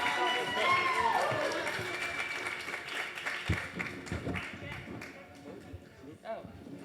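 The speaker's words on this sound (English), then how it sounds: "Let's give a huge round of applause." Audience applause after a real estate panel of NAR 30 Under 30 winners, a burst of clapping from a crowd that fades over several seconds, with a voice talking over it.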